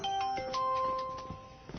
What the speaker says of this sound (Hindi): ताओ का फोन है।